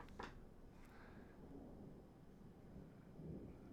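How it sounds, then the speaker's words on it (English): Far-off thunderstorm rumble, a quiet steady low roll with a couple of faint swells and small crackles, heard alone with no talking. "Storm off in the distance."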